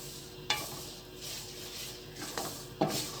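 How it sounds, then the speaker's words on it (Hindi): Wheat flour roasts in ghee in a pan for barsati ladoo, with a faint steady sizzle and a few sharp scraping strokes of the spoon spaced out across the clip. "इसे अच्छी तरह हमने ना भून लेना है, आटे को कच्चा नहीं छोड़ना"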